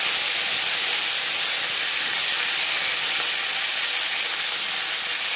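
Dried chillies and five-spice tempering sizzle in hot mustard oil, a steady, loud, bright frying hiss that runs unbroken from start to finish with no talking.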